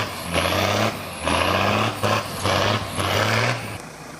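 Old military truck engine laboring hard uphill on a muddy road, a loud droning roar that surges and eases in four repeated pulses with hissing bursts between them, no voices.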